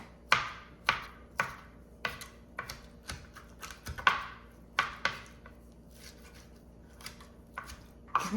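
A knife minces raw shrimp on a cutting board in sharp, irregular taps, close and clear, with brief pauses between strokes.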